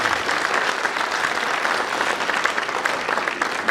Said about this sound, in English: Can we give a round of applause for all of our partners?